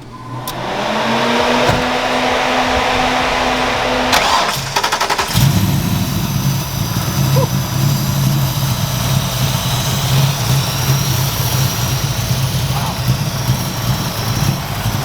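A loud Ford Mustang Foxbody four-eye engine with performance cams idles nearby with a lumpy, rumbling rhythm. Partway through, the pitch shifts and the rumble deepens into a throaty, choppy idle.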